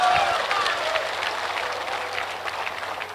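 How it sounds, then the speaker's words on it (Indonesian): Dense audience applause and crowd noise from a large gathering at a religious talk fill the whole stretch steadily, with a brief voice near the start. "Kalian enak aja tepuk tangan, aku yang kena bully"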